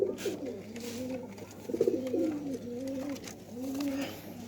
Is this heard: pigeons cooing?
yes